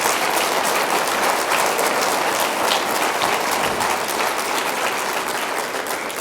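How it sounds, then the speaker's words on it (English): A room full of people gives a big round of applause for Alan Alvarez at an evening event supporting the Boy Scouts, dense steady clapping that holds close and loud throughout. "Ladies and gentlemen, big round of applause for Alan Alvarez."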